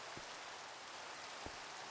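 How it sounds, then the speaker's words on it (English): Steady rain falls outside, a dense even hiss with a couple of faint heavier drops or patters standing out briefly against the continuous wash. "Great, it's raining."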